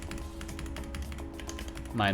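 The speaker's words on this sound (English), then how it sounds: "typing now, because I need to copy everything over." Fingers tap out quick, uneven bursts on a computer keyboard during game-development work in Godot 3.4, each light click close to the microphone, with someone talking over the typing.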